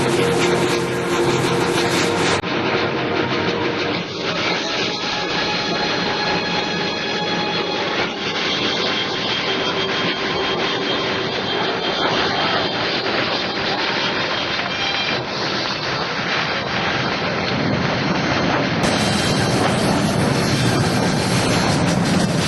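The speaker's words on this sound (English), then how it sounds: "That's Thunderbird 6 closing on the diamond at more than 500 miles per hour." A USAF Thunderbirds jet closes on the diamond formation at more than 500 mph at the 2000 McGuire AFB open house. It makes a loud, continuous roar that holds steady for the whole stretch.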